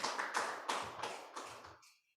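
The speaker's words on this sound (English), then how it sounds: "Y'all give him a round of applause." An audience at a poetry reading claps in about six brief, soft bursts that fade out within two seconds.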